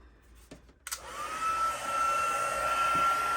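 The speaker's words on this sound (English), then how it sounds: "We're going to let that heat tool heat up just a bit" Heat tool for heat embossing switching on and heating up, a few handling clicks followed by a steady close blowing whoosh with a thin whine that holds to the end.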